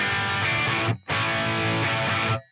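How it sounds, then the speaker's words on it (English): Les Paul electric guitar played through a dry Friedman BE amp with no reverb, a loud, thick distorted chord ringing out, briefly cut, then struck again and sustained alone. "My first scene is a dry Friedman BE. It sounds like this with my Les Paul."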